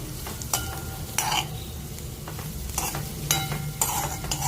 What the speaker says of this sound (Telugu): సో మీడియం ఫ్లేమ్లో పెట్టి మాత్రమే ఫ్రై చేయండి.